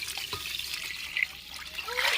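Four cups of water poured into egg biryani masala in a pot, a steady trickling pour that runs for a couple of seconds, growing slightly louder and more splashy toward the end, with no talking.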